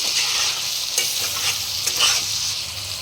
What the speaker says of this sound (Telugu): మేము నాలుగు గట్లు నూనె పోసుకుంటున్నాము వేసుకున్న తర్వాత దాన్ని కొంచెం ఫ్రై చేసుకోవాలి